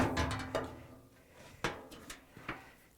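A few sharp plastic clicks and knocks come from the lint screen door of a Whirlpool dryer as it is closed, close up and quiet, with no speech.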